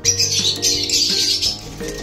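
Pet opaline and split-dilute parakeets in a cage, a dense loud flurry of high chirps and twitters close by, with some low background hum beneath, running continuously throughout.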